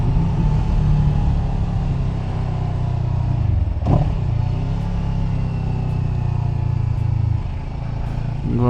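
A CF Moto motorcycle engine running steadily with a low, continuous rumble held at high revs, plus one brief clunk midway and faint ticking later on.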